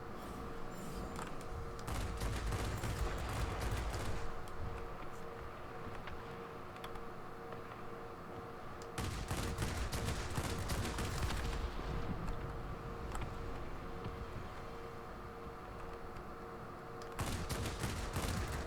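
Aircraft machine guns in World of Warplanes rattling in long sustained bursts, three loud stretches of rapid fire separated by slightly quieter engine-backed pauses.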